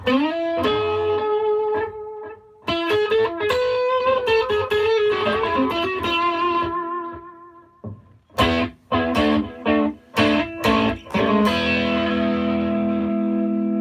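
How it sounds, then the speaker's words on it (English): Electric guitar played through a Headrush tape echo effect on the analog long setting, placed before the amp: sustained notes and chords, then choppy strummed stabs, each trailing off in repeating echoes with no talking. "Let's put a tape echo on."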